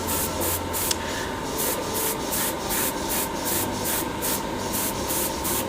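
An airbrush sprays grey paint onto a model boom arm, a steady close hiss carrying faint rhythmic pulses throughout, with no voices.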